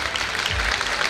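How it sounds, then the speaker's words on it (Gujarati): An audience at a school annual awards function applauds, a dense steady clapping that fills the short stretch. "આપણે એમને તાળીઓથી વધાવીએ."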